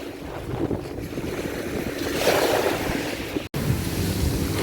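Moderate sea waves wash and surge on a beach near Saranda, Albania, against a steady background of wind buffeting the microphone, swelling slightly midway, with a brief dropout near the end.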